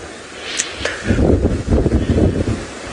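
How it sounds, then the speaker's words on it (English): Wind gusting over an open vehicle on an evening safari game drive, a broad roaring rush that swells loudly in uneven bursts through most of the moment, close to the microphone, with no talking. "but it's a bit windy."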